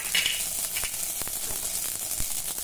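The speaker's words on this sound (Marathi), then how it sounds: "हे बघा हे तूप आता मस्त गरम झालं। आता यामध्ये चिमूटभर मोहरी घालूया" Mustard seeds sizzle and crackle in hot ghee in a pan, a steady close hiss of frying with scattered sharp pops throughout.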